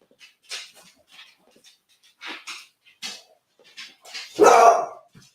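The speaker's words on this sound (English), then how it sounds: "What are you barking at? It's a weird old bark." A nearby dog gives a few short yips and whimpers, ending in one louder bark, in quiet indoor surroundings.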